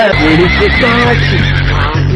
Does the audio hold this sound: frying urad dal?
no